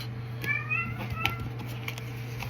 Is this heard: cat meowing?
yes